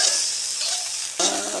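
Egg fried rice sizzles and crackles in a hot pan, a steady hiss of frying that swells again briefly near the end as the rice is stirred, with no talking.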